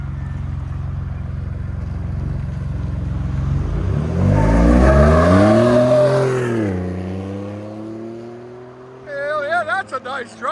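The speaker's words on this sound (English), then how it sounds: "What do you guys think of that straight pipe on that EcoBoost?" A Ford F-150 EcoBoost truck with a straight-pipe exhaust pulls away, its engine rising from a low rumble to a loud rev that swells and then fades as it drives off, with some voices over it near the end.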